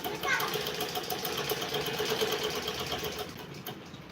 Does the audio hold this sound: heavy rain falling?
no